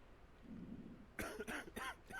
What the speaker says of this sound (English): Alright, so he has a cough.